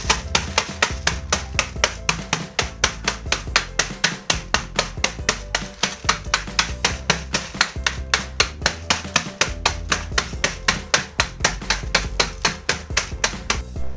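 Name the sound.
crushing Roma Marie biscuits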